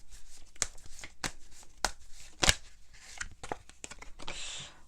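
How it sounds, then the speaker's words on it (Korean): Tarot cards shuffled by hand, a run of sharp riffling slaps and flicks at close range, ending with a card drawn from the deck, with no talking. "여러분께 필요한 컬러를 한 장 뽑아보도록 할게요."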